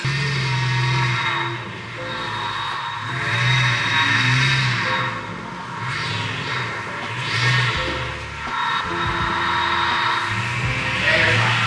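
A plow truck's engine runs and revs steadily close by as the vehicle pulls into a garage, with a deep low rumble and a few rises in throttle across the stretch.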